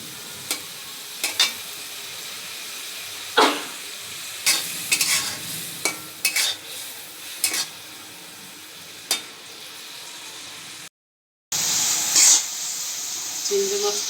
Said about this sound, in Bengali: মশলাগুলো দিয়ে এখন হলুদটা কষিয়ে নিই।